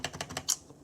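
Keystrokes on a cheap mechanical keyboard fitted with lubed brown switches, four or five quick close clacks in an even run ending on a sharper, brighter hit, with no talking.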